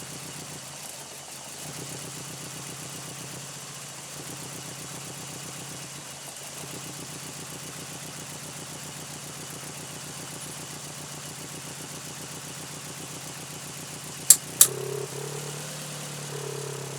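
Mitsubishi Galant VR-4 engine idling steadily after startup, a low even rumble throughout, with two sharp clicks near the end followed by a brief change in tone.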